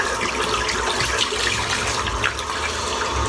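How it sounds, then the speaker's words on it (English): Running tap water splashes steadily as a silvertip shaving brush is rinsed out beneath it, a close, continuous hiss with no talking. "Just going to rinse the brush out."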